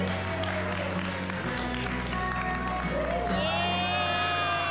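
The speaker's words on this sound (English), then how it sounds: "Can we give her a round of applause, please?" A birthday party crowd cheers and applauds for the celebrant, with a dense, steady roar of voices, whoops and clapping over background music.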